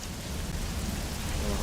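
Heavy rain pours in a steady, dense wash of noise with no breaks, close and loud, evenly filling the whole stretch.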